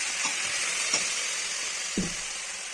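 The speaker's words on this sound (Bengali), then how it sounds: "দেখুন বন্ধুরা, আমি ফুলকপিগুলো ভেজে নিচ্ছি।" Cauliflower fries in oil in a pan with a steady hiss and sizzle, a few soft clinks and stirring taps standing out above it, close and without talk.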